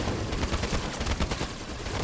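Storm rifle from the video game Halo 5: Guardians in Warzone mode, firing in a fast continuous automatic burst, loud and close, the rapid shots blurring into a dense rattling stream with no pauses.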